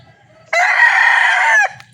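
A gamefowl rooster of a straight-bred PSG line crows once, loud and close, a single sustained call of about one second standing out from a quiet background.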